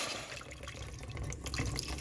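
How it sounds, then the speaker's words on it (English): Water is poured into a pot of vegetables for a homemade vegetable soup, a soft steady splashing flow that builds slightly louder toward the end. "now I'm going to pour water in it"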